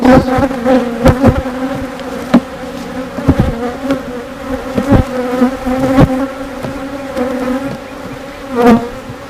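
Honeybees buzz loudly and close around a hive during beekeeping, a droning hum with individual bees zipping past, punctuated by sharp knocks and taps.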